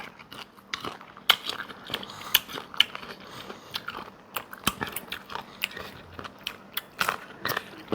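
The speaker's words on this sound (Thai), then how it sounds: "แอปเปิลกรอบมาก" Crisp, crunchy bites into a fresh apple, eaten with sweet fish sauce dip, followed by steady close chewing, with sharp loud crunches scattered through the eight seconds.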